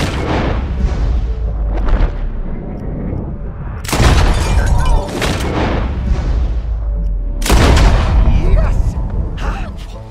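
Gunshots ring out in Red Dead Redemption 2, a couple of heavy booming reports at separate moments over a steady bed of game ambience and background noise, with speech mixed in.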